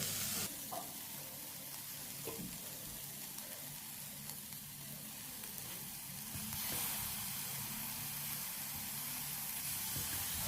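Chopped tomatoes sautéing in a pan for a weight-loss soup, a steady soft sizzle and hiss running throughout with occasional light stirring scrapes, no voices.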